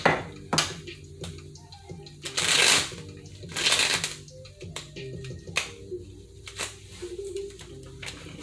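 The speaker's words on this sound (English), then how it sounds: "so a couple more shuffles. We're gonna cut" Tarot cards are shuffled in several quick riffling bursts, crisp and close, separated by short pauses and soft handling clicks.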